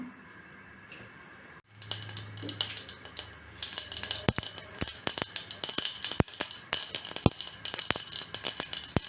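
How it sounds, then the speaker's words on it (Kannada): Sharp irregular pops and crackles burst repeatedly as mustard seeds splutter in about two spoons of hot oil, with a low sizzle between them. "ಸಾಸಿವೆ ಸಿಡಿತಿದೆ"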